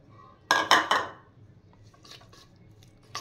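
Utensil clinks and scrapes in a bowl as batter with salt, chopped green chilli and coriander is mixed; a few sharp knocks close together, then softer stirring scrapes and a final tap, no talking.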